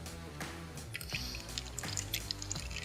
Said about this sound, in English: The oil will start to drain out of it once you get the seal to break free.